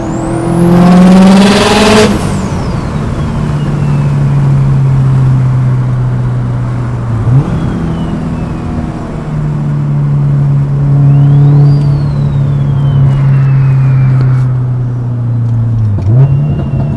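A Subaru STI with a T51R turbo on pump gas, making under 600 wheel horsepower, opens with a loud rev and rising turbo whine, then settles into a deep steady engine drone with a second rev and spool whistle, close and loud.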